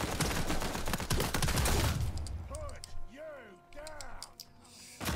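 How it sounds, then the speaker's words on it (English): Rapid bursts of P90 submachine gun fire in Uncharted 4 multiplayer, loud dense automatic volleys at first that thin into scattered shots, with game voices and effects around them. "The P90 is a very overpowered DLC gun."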